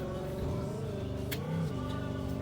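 A car engine rumbles steadily while driving off-road, its pitch rising and falling as the throttle is worked, with a brief sharp knock partway through; moderately faint and continuous.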